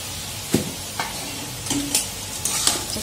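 Salt is mixed into food in a pan: a low sizzle runs underneath while a spoon scrapes and taps against the pan in several separate strokes, close and moderately loud.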